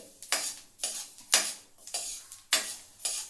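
Sesame seeds roasting in a pan for sesame burfi, heard as a series of six sharp, rhythmic scraping strokes about half a second apart with a light crackle beneath, close and clear with no voices.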